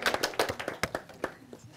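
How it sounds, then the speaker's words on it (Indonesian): A small group claps in uneven bursts of sharp, close hand claps at a Christmas event, fading toward the end. "Oke, beri tepuk tangan"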